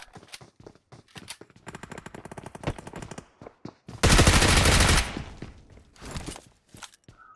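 Rapid video-game gunfire in an aggressive online shooter match, with clustered bursts of shots through the first half, then a loud sustained roar of fire for about a second, followed by scattered short shots.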